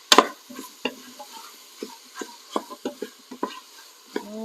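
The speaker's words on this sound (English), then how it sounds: "Just give this a quick stir." Charro beans with bacon and vegetables are stirred in a pot with a spoon, giving a series of separate scraping and clacking strokes at an irregular rhythm over a faint background sizzle.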